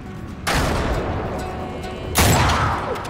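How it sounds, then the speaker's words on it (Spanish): Gunfire in the video game Uncharted 3: two loud bursts of rapid shots, the second sharper, with a dense crackling spray between them. "Tiros."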